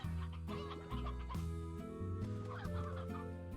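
Game chickens in Slime Rancher cluck in quick, choppy bursts, sounding like a person imitating a hen, over a loud, steady layer of background music that fills the whole stretch.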